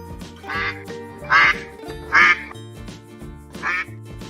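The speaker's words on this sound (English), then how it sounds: "D is for duck." A duck quacks four times in short, loud bursts spaced about a second apart, over a soft musical backing of a children's alphabet song.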